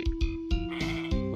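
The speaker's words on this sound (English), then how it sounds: "we heard a sheep" Several short, nasal sheep bleats in quick succession, each a brief harmonic cry, with a steady electronic tone running underneath, in the video game Super 3D Noah's Ark.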